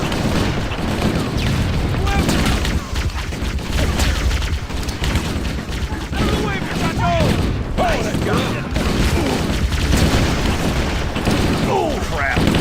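A frag grenade explosion amid sustained gunfire in the Halo: Combat Evolved campaign, dense booms and rapid shots running continuously at loud level, with voices talking over the combat.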